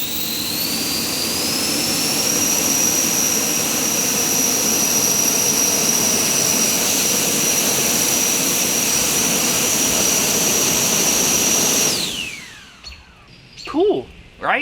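A 3D printed electric ducted fan drone whines loudly and steadily in flight, its high-pitched fan tone rising briefly, then holding before winding down near the end, when faint chirps and a voice are heard.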